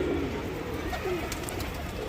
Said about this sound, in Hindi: अभी अपने सभी कबूतर आ चुके हैं बाहर।